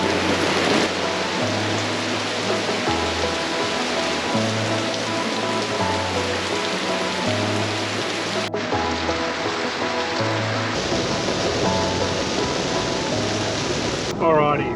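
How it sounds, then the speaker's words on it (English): Steady rain falling outdoors on a dark evening in Mossman, Far North Queensland, a dense continuous patter close by with music playing over it. "Raining and dark, so we're gonna have to wait and see how long it lasts"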